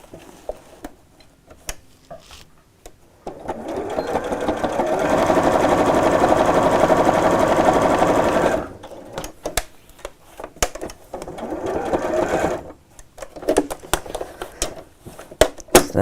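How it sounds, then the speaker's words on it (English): A sewing machine runs in a steady burst of about four seconds, then a shorter second run, stitching along the straps of a quilted tote, with clicks and handling noises in the pauses between. "Next thing to do here is to sew along the same stitch lines around about 3 inches from the top."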